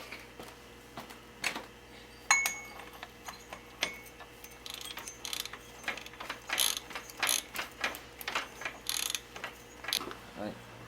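A torque wrench clicks and ratchets while tightening a fastener on a BMW F650GS motorcycle, sounding as a quiet, close run of irregular metallic ticks and clacks that grows busier toward the end.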